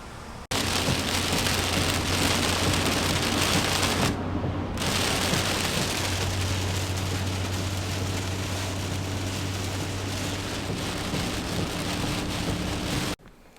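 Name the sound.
rain falling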